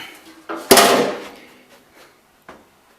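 The hood of a Cub Cadet 3050 tractor drops shut with one sharp metallic slam, then rattles briefly, followed by a smaller knock a moment later.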